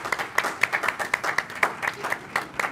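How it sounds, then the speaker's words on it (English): A small group claps for a few seconds at a tourism commission meeting, a quick irregular patter of hands close by, fairly light and brief. "And the crowd goes wild."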